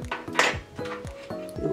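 Aloe vera gel and clay being stirred together in a bowl for an oily-skin face mask, a utensil clinking and scraping against the bowl in several short repeated strokes, close and fairly quiet.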